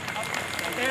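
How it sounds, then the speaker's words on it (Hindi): A brief burst of clapping from an audience at a senior citizen council Holi festival gathering, fairly loud and close, welcoming a doctor, with voices mixed into the applause. "जोरदार ताली डॉक्टर साहब के लिए"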